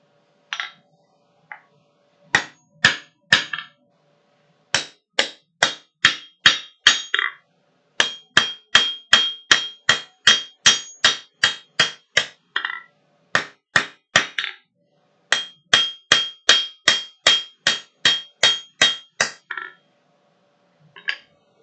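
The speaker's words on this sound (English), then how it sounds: "So I'll go to a little bit smaller hammer." A smaller hammer strikes metal in a workshop with ringing, regular blows in bursts of several quick hits, loud and close with brief pauses between groups.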